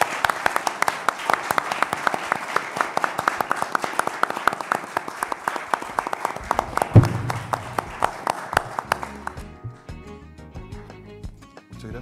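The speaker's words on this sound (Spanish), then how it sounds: "le pido un aplauso a los tres invitados." An audience at a conference on Mo Yan and contemporary Chinese narrative applauds three guest speakers, with dense, steady clapping for about nine seconds before it thins out and fades.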